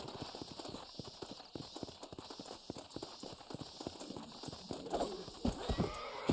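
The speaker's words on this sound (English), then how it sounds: "Okay, horse breaking job here." A horse being broken in a Red Dead Redemption game, hooves clopping rapidly and unevenly with a whinny, growing louder and more agitated toward the end.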